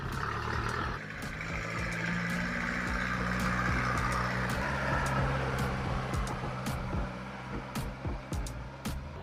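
A low engine rumble of a heavy vehicle like a tractor drones steadily nearby, with faint clicks and knocks over the top.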